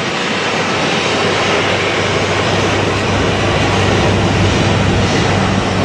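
A jet airliner roars steadily down the runway on takeoff at Madeira airport, seen from a viewing deck; the loud, continuous engine rumble fills the scene without voices.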